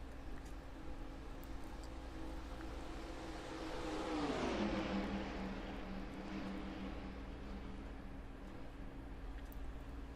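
A race car passes on a racing track during a race, a distant engine drone swelling as it approaches and falling in pitch as it moves away, under a steady background roar.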